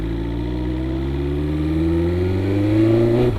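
A BMW motorcycle engine revs up close, its pitch climbing smoothly and steadily as the throttle opens, loud and alone with no talk.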